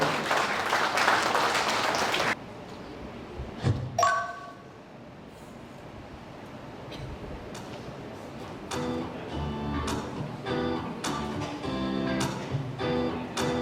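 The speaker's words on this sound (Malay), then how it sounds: "Apa kata sekali lagi kita berikan tepukan yang gemuruh kepada Dewan Bandaran Kuala Lumpur." Audience applause at a Kuala Lumpur City Hall launch ceremony for an online permit system: a loud burst of clapping for the first two seconds, then quieter chimes and tinkling tones with a musical passage building toward the end.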